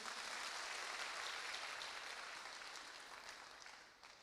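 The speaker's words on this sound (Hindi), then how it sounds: "अच्छा, आप सभी लोग, एक शानदार ताली आपके लिए बनती है।" An audience at a business seminar gives steady, even applause, a dense wash of clapping that runs for about four seconds, fairly quiet and distant, then tapers off at the end.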